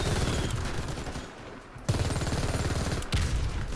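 Rapid automatic gunfire from an SMG in the shooter game Warface, dense and continuous, with a brief lull midway before the loud bursts resume at close range.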